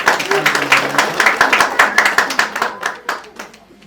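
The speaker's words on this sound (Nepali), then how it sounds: "ताली पनि बजाइदिनुहोस्।" Guests at a Christian wedding ceremony clap right after the couple is pronounced husband and wife, a close, lively patter of many hands that thins out and fades over a few seconds, with a voice faintly mixed in.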